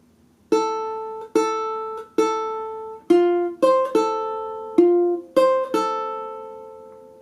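A ukulele plays a short, slow melody of about nine clear single notes, each ringing out before the next, close and bright.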